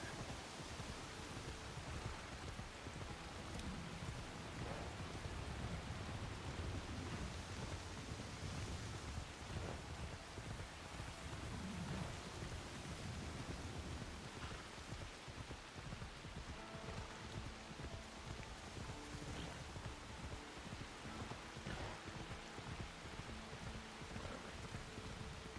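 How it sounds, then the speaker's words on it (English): Wind and rain in a video game roar as a dense, continuous wash of noise, with rain patter and gusting wind holding steady and fairly loud across the whole stretch, no voices. "chaos in the wind and the rain"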